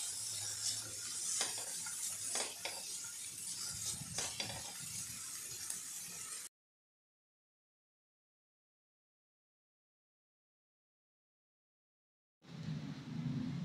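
Peas and mixed vegetables sauté in oil in a pan for a Marathi stuffed chapati filling, giving a steady close sizzle with stirring scrapes for about six seconds. Silence follows, then the frying noise resumes.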